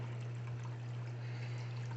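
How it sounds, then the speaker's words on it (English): Water from a hose pours steadily into a bucket, a continuous close trickling stream with a steady low hum beneath it and no talk. "Alright, so we're filling up a bucket."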